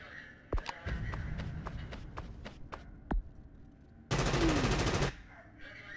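Machine gun fire in the turn-based game Frontline Tactics: a rapid string of sharp single shots over a running rumble, then a loud sustained automatic burst lasting about a second, close and alone.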